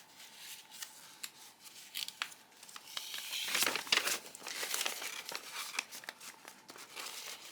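Paper sewing pattern rustles and crinkles as it is folded and a pin is poked through it, soft crisp handling sounds close up, swelling in the middle with no talk.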